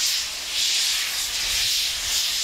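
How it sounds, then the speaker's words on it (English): A heritage steam train on a British preserved railway releases a steady, loud hiss of steam that swells and eases in a few broad pulses, with no talk over it. "Hissing steam, belching smoke and breathing fire."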